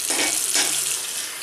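Tap water runs into a sink for rinsing after a shave, a brief close hissing splash that softens slightly as it continues.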